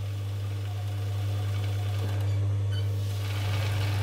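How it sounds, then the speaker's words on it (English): An industrial overlocker runs slowly, giving a steady low motor hum with a soft rhythmic stitching rattle on top. It is close and continuous, with no voices. "it does take skill to learn to do this slowly on this particular industrial overlocker"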